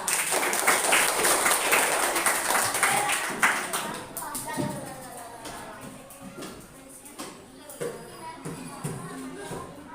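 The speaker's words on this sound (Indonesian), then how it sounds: "tepuk tangan" A class of students clapping their hands together in a classroom lesson, a dense burst of claps that is loud at first and then thins out and fades, with a voice talking over the later part.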